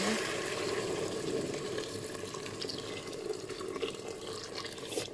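Hot water poured into a Cookeo pressure cooker over white beans for Moroccan-style loubia, a continuous gushing splash close by with some bubbling, no voices.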